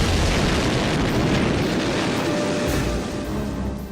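A bomb detonating in a documentary sound effect, with a loud, sustained roaring blast rumble that fills the whole clip and fades slightly toward the end, with no speech.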